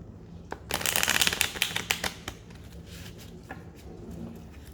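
A deck of oracle cards being shuffled up close, a dense riffling burst followed by scattered soft card flicks and taps that fade toward the end.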